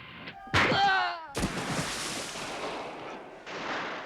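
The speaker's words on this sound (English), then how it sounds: "Blank-firing weapons introduce another element of risk" Blank-firing weapons go off during a film stunt, with two sharp, loud bangs about a second apart followed by a rumbling, noisy wash, and a shout or voice near the start.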